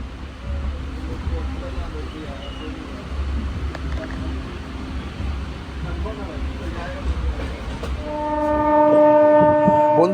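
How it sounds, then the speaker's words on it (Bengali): The 22587 Sealdah–Banaras Amrit Bharat Express rumbles steadily into Dankuni Junction, then a loud, sustained horn blast sounds close by near the end. "আমাদের ট্রেন এখন ঢুকছে ডানকুনি জাংশন"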